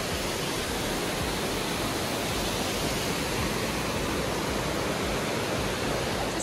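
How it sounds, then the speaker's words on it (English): Montezuma Falls in Tasmania, running with plenty of water, gives a steady, dense roar of falling and splashing water that stays loud and unchanging throughout, with no voices. "right up there, that is the waterfall we've been headed for. That is really gorgeous. Actually, there is so much water flowing at the moment."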